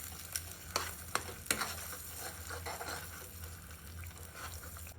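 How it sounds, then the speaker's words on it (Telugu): Ginger garlic paste frying with tomato and onion in a pan for a bottle gourd and paneer curry, a steady close sizzle broken by a few sharp scraping stir clicks near the start, with no voices. "ఇది పచ్చివాసన వేయేంత వరకు అల్లం వెల్లుల్లి పేస్ట్ వేయించుకోవాలి"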